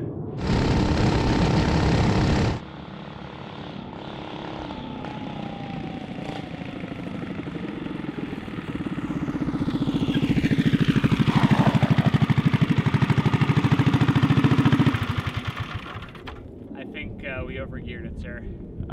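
A small vintage mini bike engine drones and revs steadily, rising in pitch then dropping off, with wind buffeting the mic and a voice briefly audible.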